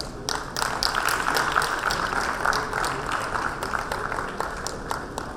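Audience applause at a global expansion panel event, a sparse scatter of individual hand claps with distinct taps standing out over a thin background of clapping, lasting several seconds at a fairly even, moderate level.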